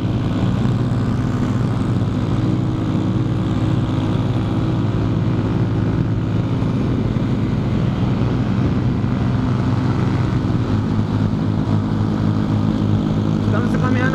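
A motorcycle engine drones steadily while the bike is ridden along at cruising pace, a loud continuous hum with wind rush and no breaks.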